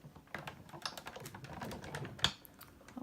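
Scissors snipping through thin paper die cuts of delicate shapes, a run of soft crisp clicks and rustles close by, with one sharper snip standing out near the end.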